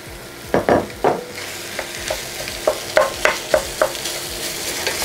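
Minced meat stirred into onions in a hot frying pan, giving a steady close sizzle with repeated scraping stir strokes in an irregular rhythm, no voices.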